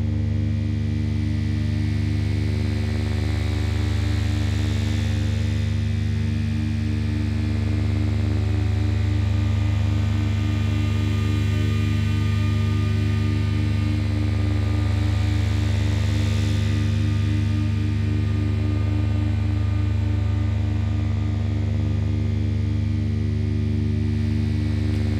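A Piston Honda MKII wavetable oscillator from Industrial Music Electronics drones steadily, its internal oscillator blended with an external DPO, giving a dense buzzing tone rich in harmonics with slow shifting sweeps in the upper register throughout.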